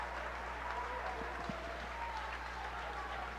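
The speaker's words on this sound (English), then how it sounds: "A standing ovation given by the Chelmsford crowd tonight." Standing ovation from the Chelmsford crowd at a high school boys basketball game, a sustained wash of clapping filling a gym, with a few louder near claps and some crowd voices underneath.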